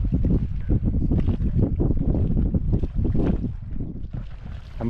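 Steady wind roaring across the microphone aboard a sailboat running under head sail only while heading out of Brightlingsea Harbour, a continuous gusty rush filling the whole clip with no talking.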